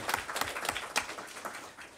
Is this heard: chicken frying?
no